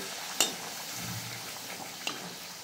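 Puris frying in a small amount of oil give a steady, soft sizzle close by, with a couple of sharp clicks from the pan and no voices.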